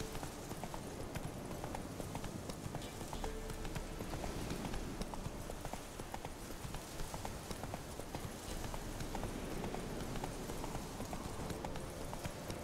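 Roach the horse trotting in The Witcher 3, hooves clip-clopping in a steady continuous rhythm over a soft ambient bed, faint and unbroken throughout.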